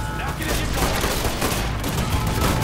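Dense, rapid gunfire fills a Mafia 3 video game scene as cans are shot, a continuous loud fusillade of overlapping shots with a faint voice underneath.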